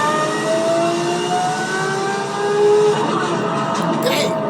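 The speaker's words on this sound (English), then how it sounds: "Nothing brings out more emotion than a big screaming V12 Lamborghini Aventador." A Lamborghini Aventador SVJ Roadster with a V12 and Gintani exhaust revs with a loud, sustained, rising engine note, steady and close throughout.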